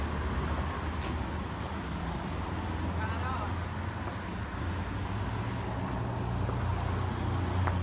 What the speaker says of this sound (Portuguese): me perdoe essa zoada de carro